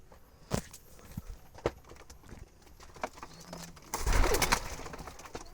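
A male black Jalali pigeon coos among other birds in a loft, low murmuring calls under a busy bed of flapping and shuffling that swells into a loud flurry near the end.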